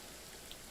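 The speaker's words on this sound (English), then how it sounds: "Is it gonna always be raining here?" Steady rain falls in Genshin Impact, a soft, dense wash of drops, fairly quiet and constant throughout with no voices.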